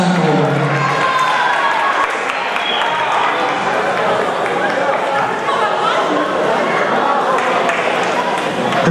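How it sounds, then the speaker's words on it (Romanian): Audience applause at a Dragobete celebration competition in Petrila for the performers Fresh Solo and Alina Stancu, loud sustained clapping mixed with crowd chatter and voices throughout. "aplauze încă o dată, vă rog frumos, pentru Fresh Solo și Alina Stancu."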